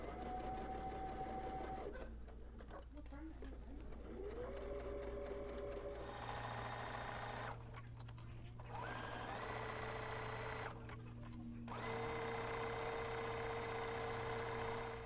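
A sewing machine runs steadily while back stitching a holiday kitchen towel, a close, loud motor hum broken by short pauses and changes in pitch as the stitching reverses direction, with no voices over it.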